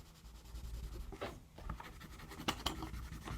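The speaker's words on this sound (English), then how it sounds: "put a lot of graphite or pencil lead onto the paper" Graphite pencil lead rubbed firmly across the back of drawing paper, a steady close scratchy scraping with a few sharper strokes standing out, no talking.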